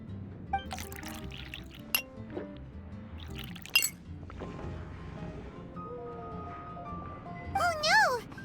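Juice pours into a glass in the Genshin Impact video game, a soft liquid trickle with faint glass clinks under game music and chatter, and a voice is heard near the end.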